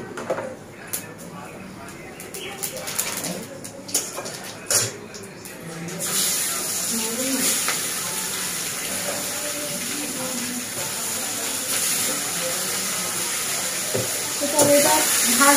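Whole spices, cinnamon and cardamom among them, dropped into hot oil for tempering, breaking into a loud, steady sizzle midway after quieter clattering and occasional talk.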